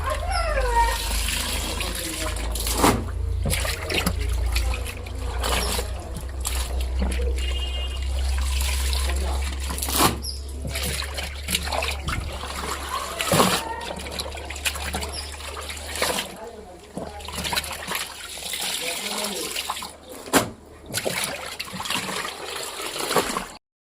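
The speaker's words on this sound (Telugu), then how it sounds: "మళ్ళీ డ్రైన్ పెట్టేశాను, వాటర్ వెళ్ళిపోతుంది." Water draining out of a semi-automatic washing machine after a wash, a continuous close trickling, gushing flow that runs the whole time while someone talks over it.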